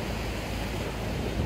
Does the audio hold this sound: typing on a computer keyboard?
no